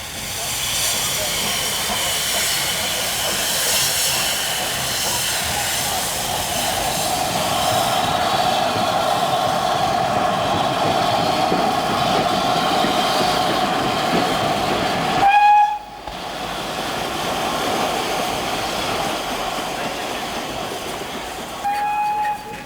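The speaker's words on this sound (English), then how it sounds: "The Princess Elizabeth was one of the fastest express engines that ran between London and Scotland in the heyday of steam." The LMS Princess Elizabeth steam express locomotive gives a continuous loud hiss and rumble of working steam, broken by a short sharp whistle blast and then another brief whistle near the end.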